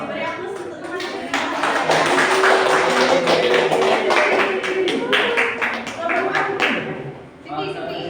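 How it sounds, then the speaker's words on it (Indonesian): Classroom students applauding their classmates, a dense burst of clapping that swells, holds for several seconds and then tapers, with a teacher's voice speaking over it near the end. "Beri aplaus untuk teman-teman."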